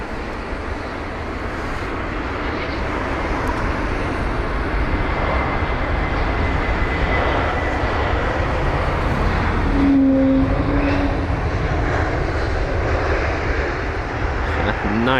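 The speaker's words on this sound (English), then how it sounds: "Nice loud wookie from that Neo." An Airbus A320neo at Heathrow passes with a loud, sustained engine roar, and a brief whining wookie tone rises near the end over a constant rumble.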